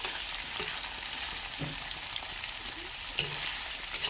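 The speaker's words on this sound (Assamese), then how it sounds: "এক মিনিটমান সময় ল' ফ্লেমত ফ্ৰাই কৰি ল'লে হৈ যাব" Paneer and vegetables fry over a flame in a pan, giving a steady bright sizzle broken by occasional clinks and scrapes of stirring.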